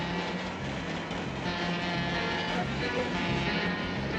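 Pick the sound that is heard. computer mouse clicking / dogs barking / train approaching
train approaching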